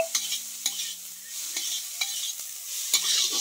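Spices fry in oil in a pan with a soft sizzle, broken by several sharp scrapes and taps of a spoon stirring against the pan at an uneven rhythm.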